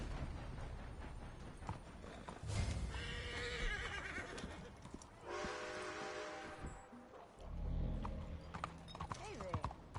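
Horse hooves clip-clop and a horse whinnies in the Red Dead Redemption 2 Online game, with harmonic neighing bursts and a deep rumble, mixed under game sounds and speech.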